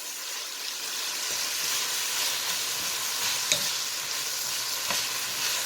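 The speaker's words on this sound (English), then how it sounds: "We just have to keep this sauteing it." Beef and onions saute for beef asado, a dense steady sizzle up close with soft stirring scrapes and a single sharp clink, no one speaking.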